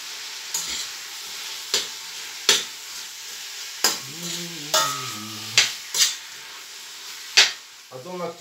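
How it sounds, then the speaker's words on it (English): Meat, onions, garlic and ginger brown in a pan with a constant low sizzle, while a spoon scrapes and clanks against the pan in sharp, irregular strokes. "The meat and the onions and the garlic and the ginger, just to brown a bit."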